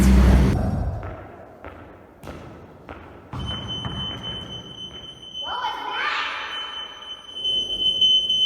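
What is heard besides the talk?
fire alarm ringing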